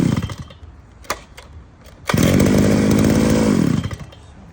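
A petrol brush cutter engine, just repaired, sputters with a few short pops, then revs up to a loud, steady high-pitched whine for about two seconds before dropping back.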